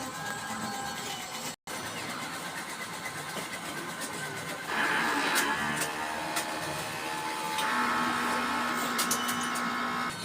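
A DTF printer whirs and hums steadily through its head-cleaning cycle, with a brief cut near the start, then a louder mechanical drone and faint clicks.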